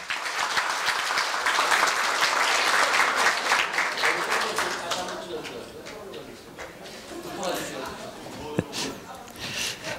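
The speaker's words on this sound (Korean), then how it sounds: "네, 큰 박수 부탁드립니다." Audience applause at a university staff retirement ceremony in a hall, dense clapping that swells then eases into a thinner patter, with voices and murmuring mixed in throughout.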